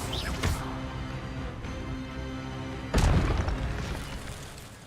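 A spell cast in the video game Hogwarts Legacy lands as a sudden booming burst at about three seconds, rising above a steady layer of game music and effects, then fading out.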